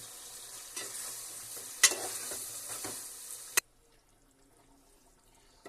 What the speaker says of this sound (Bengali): মাছটাকে এখন আমি ভালোভাবে কষিয়ে নিব।